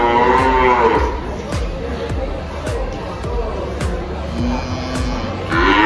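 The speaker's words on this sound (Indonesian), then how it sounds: "Sapi jenis jantan simental limosin." Simmental and Limousin bulls bellow loudly at a busy livestock market, with deep moos opening and closing the stretch and crowd murmur and movement filling the gaps between them.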